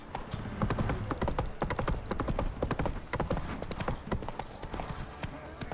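Horse hooves of Roach in The Witcher 3, a quick run of sharp clip-clop strikes at a cantering rhythm, close and distinct, continuing without pause across the whole stretch.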